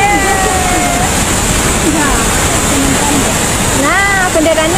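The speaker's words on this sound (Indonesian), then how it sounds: "Kayak adem banget denger suara itu. Suara air terjun." A rushing waterfall roars as a dense, steady wash of water noise, loud and close, while several people talk over it throughout.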